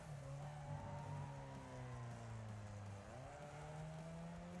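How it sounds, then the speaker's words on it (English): A van drifts and power slides through a sharp corner in the racing game Wreckfest; a steady engine drone shifts pitch beneath a faint tire squeal, heard fairly quietly without talk. "That was a sick drift, or sick power slide, whatever you want to call it."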